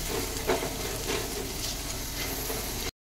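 Steady sizzling and frying in a pan as salt, turmeric and chili powder are stirred into spices, a continuous close crackle with a few scraping stirs, no talking.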